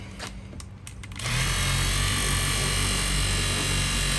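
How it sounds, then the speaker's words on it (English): A car polisher buffs scratched, clouded clear coat. After a second of light handling noise, it spins up into a loud, steady, close whirring drone that holds to the end. "Let the polisher do the work."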